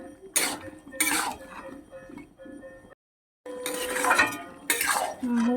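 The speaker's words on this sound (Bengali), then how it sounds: "আরও ভালো করে এবার কষবো" A spatula clanks and scrapes against a pan while chicken curry is sautéed, giving repeated metallic knocks and rough scraping bursts, with a brief silent gap midway.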